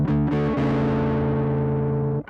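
A heavily distorted Gibson Memphis ES-175 hollow-body electric guitar chord rings out loud and sustained after a couple of quick chunky strums, then is abruptly muted.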